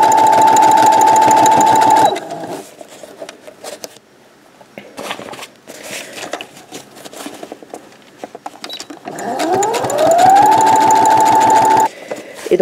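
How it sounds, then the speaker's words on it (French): A sewing machine stitching around the edge of a fabric knitting bag, running in fast steady bursts that stop and restart, with a quiet gap of handling noises between the loud close runs. "Et je vais coudre sur toute la longueur, sur tout le tour du sac en fait."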